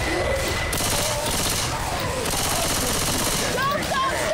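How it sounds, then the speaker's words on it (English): Dense, continuous automatic gunfire from several weapons in the zombie shooter game Left 4 Dead 2, loud and sustained through the whole stretch with a few sharper cracks near the end, while players talk over it. "No, stop shooting!"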